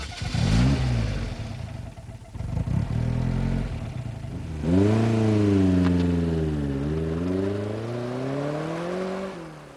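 A Lotus turbocharged lightweight sports car accelerates hard, its engine note rising loud and close through the gears with a brief dip at a shift before climbing again.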